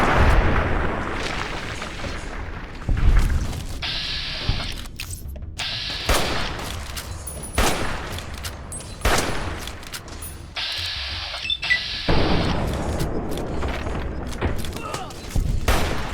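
Gunfire in the video game Fallout: New Vegas: repeated loud shots and booming blasts in irregular bursts across the whole stretch, with a voice talking through much of it.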